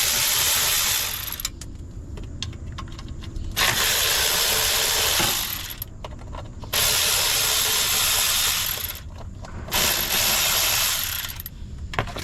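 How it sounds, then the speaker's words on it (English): A ratchet loosens the lower timing cover bolts on a Honda Accord during timing belt work, giving loud, steady bursts of rapid clicking, each a couple of seconds long, separated by short pauses with no talking. "So next up, we're going to focus on removing these lower cover bolts."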